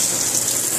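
Hot water gushing from a kitchen faucet in a rental house, a steady, hissing rush heard up close with no pauses over the short stretch.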